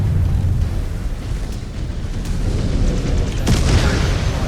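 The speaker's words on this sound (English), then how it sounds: "Cobalt, the cannon impacts will be blanketing our route, so steer clear of the blast zones" Cannon impacts in the video game MechWarrior 5: Clans, a dense, heavy rumble of overlapping booms and blasts that rolls on continuously, loud and close, with a sharper burst near the end and no voices.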